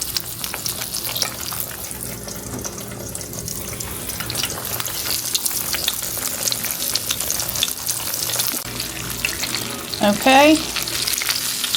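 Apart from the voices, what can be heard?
green tomatoes frying in lard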